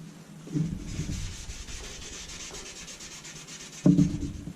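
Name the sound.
wet sanding axe head with sandpaper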